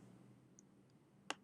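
A computer mouse clicks to confirm a trade order: one sharp, close click followed quickly by a second softer one, over a quiet room hum.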